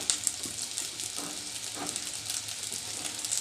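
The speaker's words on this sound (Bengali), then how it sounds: "এবার সবগুলো একটু এভাবে করে উল্টিয়ে পাল্টিয়ে বেজে নিব লাল লাল করে" Mera pitha rice dumplings frying in hot oil, a steady soft sizzle with faint stirring and turning sounds throughout, fairly quiet and close.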